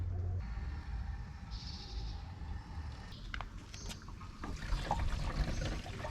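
Water running into a camper van's shower tank at a filling point in Romania, a steady trickling, splashing flow heard close by with faint background noise.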